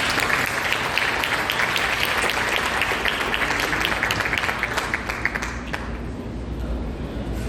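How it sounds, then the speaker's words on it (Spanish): Sustained audience applause at an academic talk on teachers and disaster risk management, dense clapping that fades toward the end, with no speech over it. "les pido por favor un aplauso"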